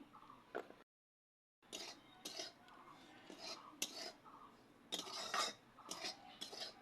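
A semolina and mango sweet mixture with raisins being stirred in a pan gives faint, intermittent scraping and clinking strokes of a utensil against metal, with soft low voice sounds in between.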